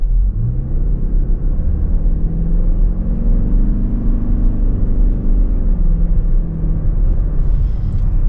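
A 2025 Toyota Crown Signia XLE pulls away from a stop, its engine and road noise swelling into a low steady rumble and whir heard from inside the cabin, with no talking.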